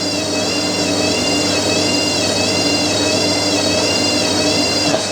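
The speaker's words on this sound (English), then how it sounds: "First spin with the new carbon brushes." A Hotpoint 9530 washing machine spins on new carbon brushes, giving a loud, steady whirring hum with a faintly wavering pitch that holds throughout, with no one talking.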